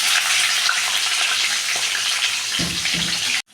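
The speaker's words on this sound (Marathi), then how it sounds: "आता फ्राय होऊ दे बघा" Chilli, asafoetida, cumin, curry leaves and onion fry in oil for sambar, a loud steady close sizzle with a brief burst of stirring clatter near the end and no speech.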